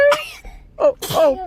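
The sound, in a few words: sneeze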